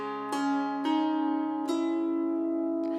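Wire-strung harp with brass strings plucked with long fingernails: four bright, ringing notes with sharp attacks, each sustaining and overlapping into a resonant shimmer, played alone and close.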